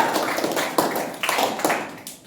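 A classroom of students claps in a short, uneven burst of applause, with dense overlapping hand claps that swell and then thin out over about two seconds.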